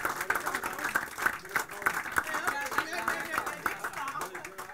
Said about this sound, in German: Ja, also Applaus, herzlichen Glückwunsch